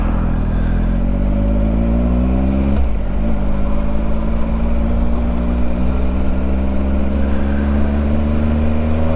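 Motorcycle with a quickshifter pulling hard through the gears on a German road, a loud close engine note rising steadily with a sharp brief dip at a shift, then climbing again, no talk.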